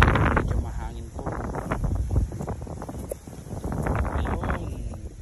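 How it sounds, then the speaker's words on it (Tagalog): Wind gusting through a garden around a young persimmon tree, buffeting the microphone with rough low rumble and rustling that swells and eases throughout, close and loud. "medyo mahangin po."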